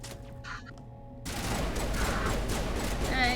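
Video game gunfire in Mass Effect Legendary Edition, a dense, loud burst of shots that starts abruptly after a quiet second and keeps going to the end.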